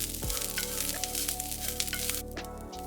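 Ground black pepper, dried basil, dried rosemary and salt are mixed in a hot pan for a vegan stuffed acorn squash filling, giving a continuous bright sizzle with light stirring scrapes.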